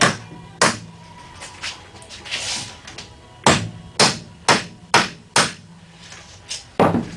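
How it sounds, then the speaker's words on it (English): A pre-drilled wooden arm of a ready-to-assemble Adirondack chair is tapped into place, giving a series of close, sharp knocks in irregular bursts, about ten strikes with short pauses between. "The hole that's pre-drilled in the arm. Just hold this and tap it."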